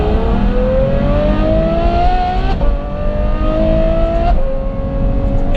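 A Ferrari F12 with a Novitec N-Largo exhaust revs loudly and close up, its engine climbing in pitch in repeated pulls with brief dips between them, a raw, sustained exhaust roar.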